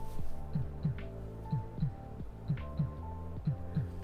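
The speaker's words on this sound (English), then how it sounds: "So Bug has a heartbeat" A soft toy's built-in simulated heartbeat pulses in a steady, regular lub-dub rhythm close to the microphone, with roughly eight quiet double thumps over a low electronic hum.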